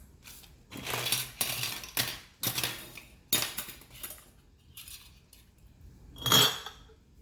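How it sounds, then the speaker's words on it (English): Glass canning jars and metal lids clink and rattle as they are handled and washed at home, in several irregular bursts of nearby clatter with quiet gaps between and one sharp ring near the end. "So I'm going to get my jars, get my lids, go ahead and get them washed"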